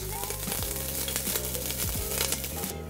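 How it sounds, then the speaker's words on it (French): Garlic cloves sautéing in olive oil with tomato paste and ras el hanout couscous spices, a loud, close sizzle with repeated scraping stir strokes of a utensil in the pan, cutting off abruptly at the end. "Nous allons faire revenir quelques gousses d'ail avec un filet d'huile d'olive, un petit peu de concentré de tomate et nos épices à couscous"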